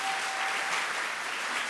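Audience applause at a chamber luncheon with the Maryland governor: dense, steady clapping from many hands, close and even, with no break.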